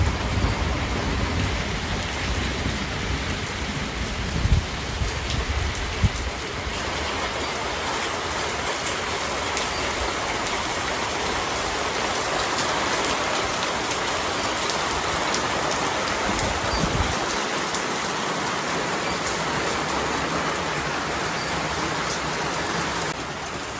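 Steady heavy storm rain pouring down continuously in a village garden, a dense hiss of drops on surfaces, close and loud with no voices.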